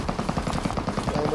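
Rapid automatic gunfire in a shooter video game, a steady unbroken stream of sharp shots at a fast, even rhythm, loud and close.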